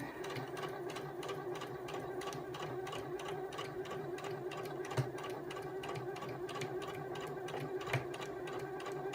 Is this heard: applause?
no